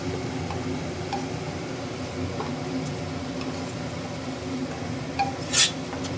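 Spices for a tarka dal are stirred and sautéed in a pan over a high flame, giving a soft, steady cooking hiss with scattered light scrapes and metal clinks and a sharper clatter near the end. No one speaks.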